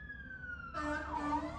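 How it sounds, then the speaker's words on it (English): Siren of a passing police car or fire truck on a street, its wailing tone swelling in loudness partway through as the vehicle draws nearer, heard alone with no talk. "cops are going by right now. Listen."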